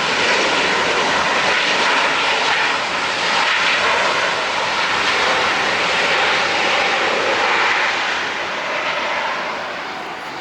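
ANA Cargo Airbus A330 jet landing at LAX, a loud, steady engine roar close by that holds for several seconds and then slowly fades as the aircraft passes.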